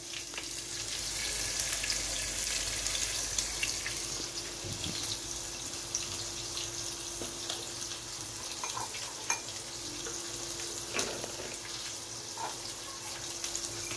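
Tomatoes fry in a pan with chili powder added, producing a faint, steady sizzling hiss with a few light clicks scattered throughout.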